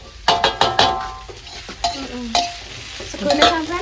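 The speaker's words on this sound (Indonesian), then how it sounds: "Gawe sego goreng." Fried rice being stir-fried in a pan: a run of loud, quick scraping and clattering strokes of a utensil against the pan over a steady sizzle, close up and without voices.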